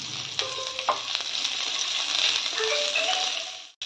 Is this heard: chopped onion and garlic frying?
yes